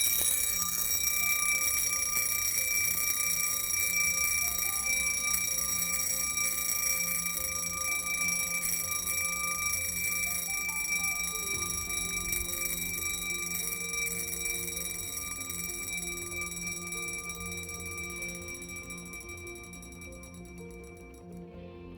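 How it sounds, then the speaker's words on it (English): Mechanical wristwatch alarm chiming, a loud, close, rapid metallic ringing with a bright bell-like tone that rattles on steadily for about twenty seconds before stopping. "It's a pretty loud chime, and imagine having this on the side of your night table and just waking up to this"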